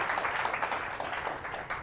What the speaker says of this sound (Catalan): Aplaudiu, aplaudiu.